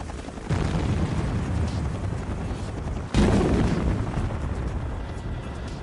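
A hydrogen-oxygen gas charge in a bell slung beneath a helicopter is detonated to trigger an avalanche: a loud blast with a long roaring rumble, then a second sharp burst and sustained rumble, heard outdoors at a distance.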